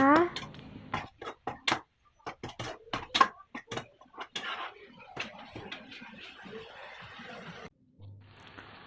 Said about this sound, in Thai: เกลือนิดหน่อยค่ะแล้วผัดให้เข้ากันนะคะ